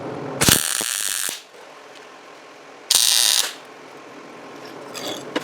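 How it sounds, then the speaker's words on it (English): Two loud bursts of tack welding on steel during a storage rack build in a shop, each crackling for about a second, with quieter shop noise between them. "Let's tack it and see how it goes."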